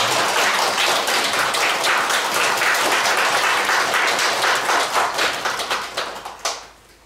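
An audience at a book launch for a Buddhist monk's collection claps loudly for a visiting senior monk, a thick, even roar of hands that tapers and dies away over the last second.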